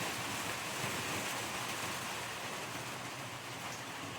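Heavy rain and strong gusting wind around a small hut, a continuous broadband roar at a steady level with no break and no voices.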